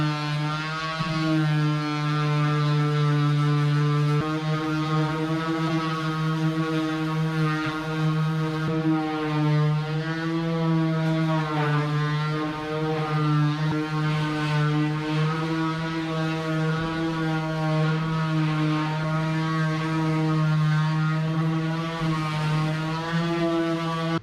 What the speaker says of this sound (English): I do have a palm sander